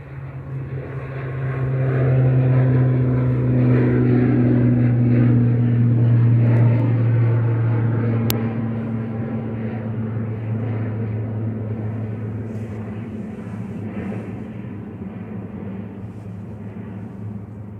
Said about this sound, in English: Was Aer Lingus heading back to Belfast there, ATR 72600